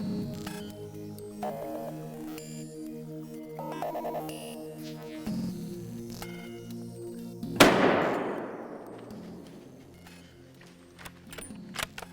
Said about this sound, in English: Gives us a clean shot. We're gonna take him.